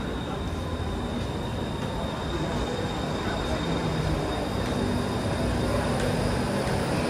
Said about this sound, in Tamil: ட்ரெயின் வந்துருச்சு பாருங்க.